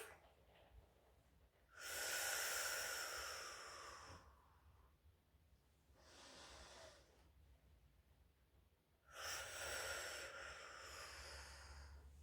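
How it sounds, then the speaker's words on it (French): Slow, deep breaths taken while lying down: two long airy inhalations and a softer one between them, close and quiet, separated by near silence. "sur l'inspiration, on gonfle"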